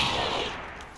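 A gunshot in the XCOM: Long War of the Chosen video game during a train heist mission, heard as one loud crack whose tail decays slowly over a second, with no talking.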